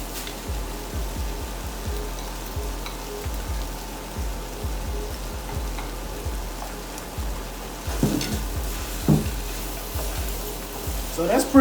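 Vegetables sizzle and crackle in a hot pan while being stirred, a steady close frying hiss with scraping strokes and a few louder clatters near the end, as a home cook makes a quick shepherd's pie.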